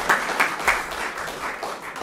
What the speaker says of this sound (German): Sebastian Borneu, einen Applaus.